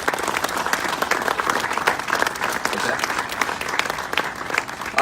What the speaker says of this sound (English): quick round of applause for that